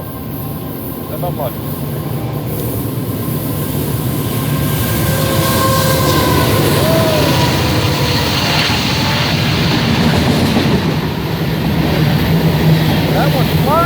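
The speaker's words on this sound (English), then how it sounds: "here comes another freaking train" A passing train rumbles steadily for the whole stretch, its low drone building slightly as it nears, with a faint horn-like tone; someone speaks briefly over it.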